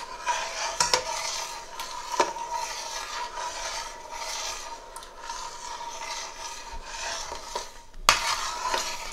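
A spoon scrapes and stirs semolina halwa cooking in desi ghee in a big pan, with repeated metallic scraping, rubbing and occasional sharp clinks against the pan's sides at moderate volume.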